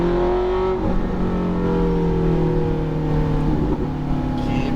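A Ferrari F430 F1 engine pulls hard on a racetrack, a loud, steady, close-up howl that holds its pitch with slight rises, heard alone without talk.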